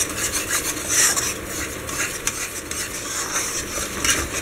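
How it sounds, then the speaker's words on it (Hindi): Gram flour roasting in ghee for Rajasthani mohanthal, stirred steadily with a spoon: a continuous close scraping and soft sizzle with repeated rubbing strokes against the pan, no voices. "हमारा बेसन भुन रहा है"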